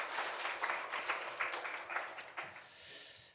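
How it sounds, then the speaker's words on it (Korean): Church congregation at a Korean Sunday worship service gives a round of applause, a soft, fairly distant patter of many hands that swells and fades, dying away into room ambience at the end. "우리 하나님께 영광의 박수 올려드리겠습니다"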